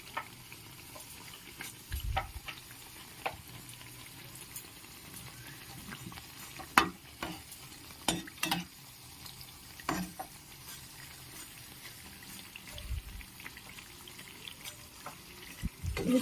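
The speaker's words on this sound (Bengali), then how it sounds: "একদম লাল লাল করে ভেজে নেব।" Nimki dough pieces fry in hot oil, a low steady sizzle with scattered crackles and occasional louder pops, close by and without voices.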